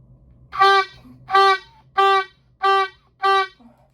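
Five short, detached oboe notes on the same pitch, each with a crisp breathy attack, evenly spaced and played alone in a quiet room.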